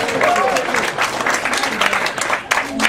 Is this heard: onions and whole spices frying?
no